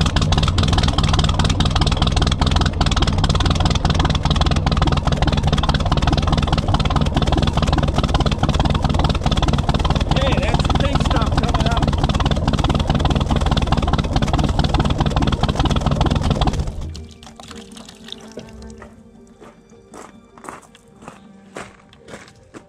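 A Chris Craft boat engine idles with a steady low rumble while antifreeze is pumped through the block, loud and constant until it cuts off abruptly near the end, leaving faint clicks and rattles.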